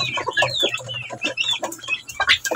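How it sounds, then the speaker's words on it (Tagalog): Chickens cluck close by at a feeder, with busy overlapping clucks and bird calls running continuously, plus a steady low hum underneath. "kailangan nating lagyan si Red dito sa kanyang kainan para hindi maabot ng mga sisiyo"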